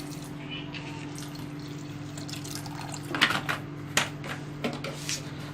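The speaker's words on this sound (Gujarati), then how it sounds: "હવે એમાં પાણી નાખી દઈશું" Water poured over two cups of poha in a bowl, a soft liquid splash followed by a few dripping and tapping sounds, close and fairly quiet with no talking.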